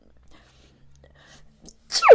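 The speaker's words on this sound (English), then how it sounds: "all the powder floating around in the air is making me sneeze." Near silence with faint murmurs, then a single sharp sneeze, set off by airborne setting powder, bursts out loudly at the very end.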